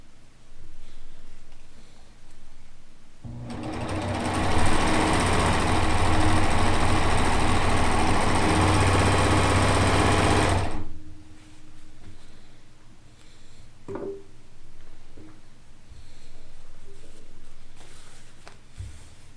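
A sewing machine runs fast and steadily for about seven seconds, stitching the last square of a quilt onto a pieced row strip, before stopping to quiet handling noises and light clatter.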